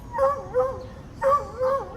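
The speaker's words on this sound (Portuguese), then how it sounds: "O cachorro quer pegar o esquilo." A dog barks twice in pairs, two quick yelping barks, a pause, then two more, fairly close with a little background noise.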